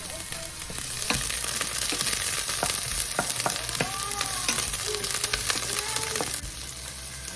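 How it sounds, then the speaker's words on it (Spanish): Onion sizzles in hot oil in a saucepan for a Mexican chicken and mushroom dish, a loud continuous frying crackle with repeated clicks and scrapes of stirring, then the sizzle drops away sharply near the end. "pongo la cebolla a que se sofría"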